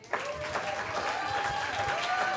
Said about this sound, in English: Huge round of applause for Johnno.